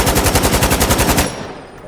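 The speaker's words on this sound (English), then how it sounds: "if I pick this AK-47 and I empty the magazine" An AK-47 in the Fallout 4 VR video game fires a rapid, steady burst of loud automatic shots for over a second until the magazine runs dry, then the sound cuts off to quiet.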